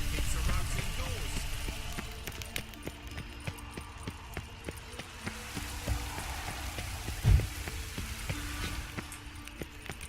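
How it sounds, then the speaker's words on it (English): Steady rain patters in a video game near Novigrad, a constant wash of drops with faint clip-clopping hoofbeats and an occasional soft thump underneath. "I like rain. Keeps the roads indoors."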